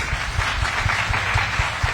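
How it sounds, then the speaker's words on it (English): An audience at a housing showcase event gives a round of applause, a dense, steady patter of many hands with light rhythmic thumps, fairly loud and close throughout. "let's give them a big round of applause, please"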